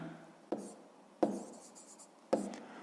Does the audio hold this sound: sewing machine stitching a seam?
no